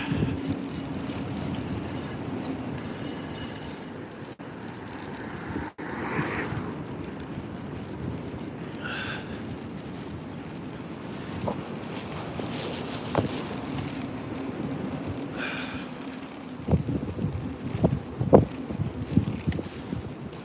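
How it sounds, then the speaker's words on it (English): Strong wind buffets the microphone on a seafront during an e-bike ride at night, a continuous loud roaring rumble with gusts and occasional rattles near the end. "That wind's taken effect on me tonight already."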